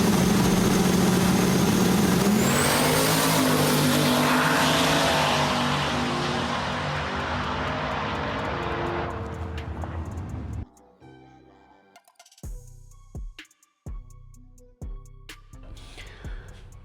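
A drag race car with a freshly fixed chassis makes a run down the strip, a loud engine roar that fades as it recedes over about ten seconds, followed by quieter scattered clicks and knocks nearby.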